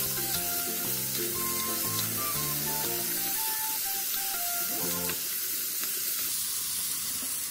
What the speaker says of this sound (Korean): 팬에 기름을 두르고 썰어 놓았던 감자를 넣어 투명해질 때까지 볶아주세요.